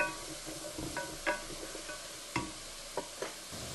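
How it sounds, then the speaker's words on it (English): Vegetables cooking down in oil in a pan for braised short ribs give a steady background sizzle, with occasional sharper clinks and scrapes of a utensil stirring them. "Now all my vegetables are cooking down"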